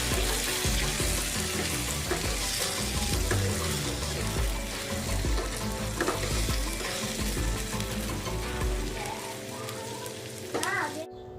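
Tomatoes and green chillies cook in a pan for anda ghotala, giving a constant close sizzle with stirring scrapes and clinks over the top, then easing off near the end.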